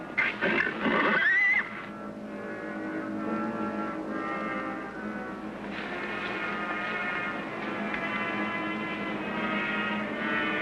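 A horse gives a loud, shrill whinny at the start of a scene in a 1957 TV western, followed by a long, sustained tonal drone lasting through the rest.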